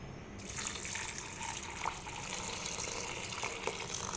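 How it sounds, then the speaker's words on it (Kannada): Freshly gathered bamboo shoots dropped into a vessel of water for soaking; a steady splashing, running-water sound fills the background, fairly close, without any talk. "ಇವಾಗ ನೀರಲ್ಲಿ ಹಾಕಿಡ್ತೇನೆ."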